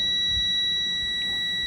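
A multimeter's continuity beep, steady, high-pitched and electronic, holds continuously, thin and clear, over faint background hiss, while testing a short to ground on a MacBook Air A1466 logic board.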